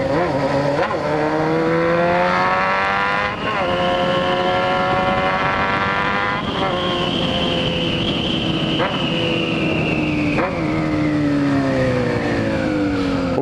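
A car's exhaust roars loud and close as the engine revs repeatedly, pitch climbing and dropping in several surging waves over about thirteen seconds, with brief sharp pops between revs.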